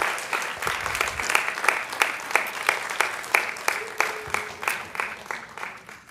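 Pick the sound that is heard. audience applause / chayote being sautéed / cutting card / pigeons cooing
audience applause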